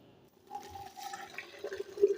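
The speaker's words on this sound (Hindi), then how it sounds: "छन्नी के ऊपर से इसको निकालेंगे तो पानी इसका अलहदा हो जाएगा" Boiled raw mango pieces tipped into a strainer, their cooking water running off in a steady close trickle and splash that swells slightly toward the end.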